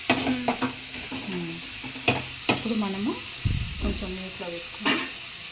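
Chana dal fries in oil toward golden with a soft bubbling sizzle, broken by several sharp clicks of a spoon against the pan and a low thump, close up.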